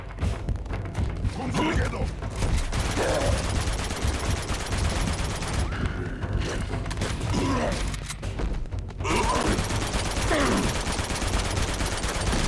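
Gunfire in the Uncharted 2: Among Thieves video game comes as dense bursts of rapid shots with mechanical clatter and thuds, fairly loud and near, while a voice talks over the action at times.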